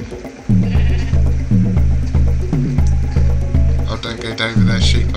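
Sheep in the video game Minecraft bleat loudly in a steady series of repeated calls, close and prominent throughout.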